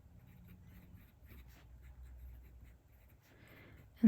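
A TWSBI fountain pen with a stiff, dry-writing fine nib moves across paper, giving faint, soft scratching strokes in a quiet room, ending in a sudden louder knock.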